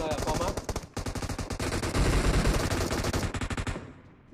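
Rapid automatic gunfire in the mobile battle-royale game PUBG Mobile, long bursts of close, loud shots with a brief pause near the start, ending abruptly.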